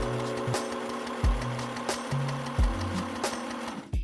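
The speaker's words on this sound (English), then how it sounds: "I'll let you guys hear me sewing with it, listen to how it sounds." A Janome mini sewing machine stitches fabric in a rapid mechanical whir, broken by a few short pauses and clunks as the needle stops and restarts, close up with no talk.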